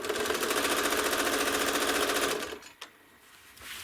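A home sewing machine quilting a Tuscan Vintage pattern runs in a steady, loud, fast stitching rhythm for about two and a half seconds, then stops, leaving a quiet tail with a few faint clicks.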